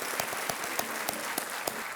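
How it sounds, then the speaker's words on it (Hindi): Studio audience applause on the Indian quiz show Kaun Banega Crorepati, a steady, dense wash of many hands clapping at once, held at an even level for the full stretch with no voices over it. "जितनी जनता है तालियों के साथ आपका स्वागत कर रही है"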